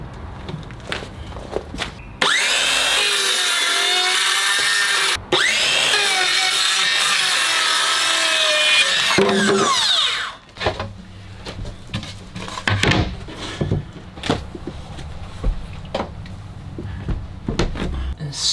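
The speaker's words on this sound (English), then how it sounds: "So let's cut that." Plywood cut to size with a power saw during a van heater installation: a loud steady whine for about eight seconds with a short break, followed by handling knocks and shuffling.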